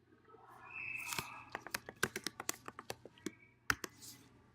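Fingers tap a computer keyboard in a quick burst of crisp, separate clicks, a dozen or so keystrokes in a loose rhythm after a short, quiet lead-in, close and fairly soft.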